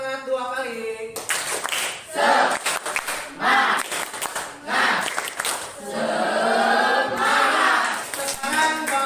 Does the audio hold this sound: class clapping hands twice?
yes